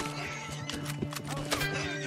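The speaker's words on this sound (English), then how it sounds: "I must have shot his horse out from under him and not hit him." A horse neighs and whinnies after being shot in the Red Dead Redemption 2 video game, loud and close, with hoof clip-clops mixed into a busy game soundscape.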